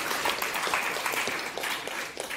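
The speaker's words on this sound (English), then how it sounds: "please applaud to the wonderful" After a legal organizers' panel, the audience claps in a brisk, moderately loud burst of scattered hand claps that fills the short stretch and stays fairly even throughout.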